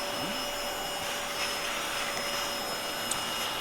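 A handheld vacuum cleaner runs steadily up close while picking up sequins from embroidery work, giving a constant whirring drone with no talking.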